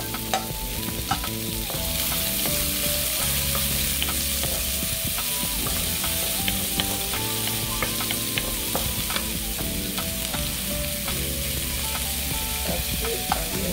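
Onions frying with garlic in a pan, a steady close sizzle with stirring scrapes throughout and no talking.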